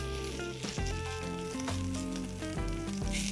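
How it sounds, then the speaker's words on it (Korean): Chives and green onion stir-frying in a hot oiled pan, a dense close sizzle with crackling, and occasional louder surges as the vegetables are moved around. "팬이 뜨거워지면 부추와 대파를 함께 살짝 볶아주도록 할게요"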